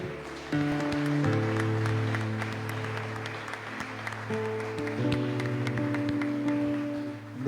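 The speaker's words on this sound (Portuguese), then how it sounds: "Podemos aplaudir o Senhor." Church congregation applauding during a worship service, a sustained crowd of claps over held organ or keyboard chords, steady and moderately loud before easing off near the end.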